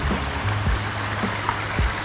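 A river flows near Kenaboi Waterfall in Negeri Sembilan, a steady rushing, trickling wash of water at moderate level with faint low rumbles underneath and no talking.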